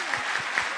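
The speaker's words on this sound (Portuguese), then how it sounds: "Uma salva de palmas para as duas." Audience at a motivational lecture in Curitiba breaks into applause for two young girls, a brief dense wash of clapping heard on its own.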